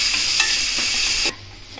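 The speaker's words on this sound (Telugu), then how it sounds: "గోల్డెన్ బ్రౌన్ వచ్చే వరకు ఇట్లా వేయించుకోవాలి ఉల్లిపాయలు" Sliced onions frying in a pan while being stirred, a loud steady sizzle with scraping strokes, dropping abruptly quieter near the end.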